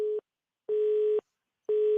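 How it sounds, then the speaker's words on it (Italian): Telephone busy tone after a dropped call-in line on a radio broadcast: three steady mid-pitched beeps, each about half a second long, separated by even silences, clear and alone. "È caduta la linea certamente con la senatrice"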